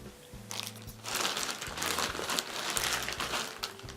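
A parcel holding a Global A60 12W 4100K E27 LED lamp is opened, with crinkling and crunching packaging that rustles steadily for several seconds, close and fairly loud, with no talk.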